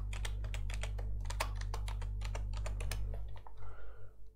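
Email and password being typed on a computer keyboard, rapid close keystrokes clattering in bursts for several seconds over a steady low hum, then trailing off.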